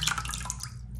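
Water running and splashing in a bathroom sink as an iPhone in a waterproof case is dunked, a steady close wash of flowing water with small drips for about a second.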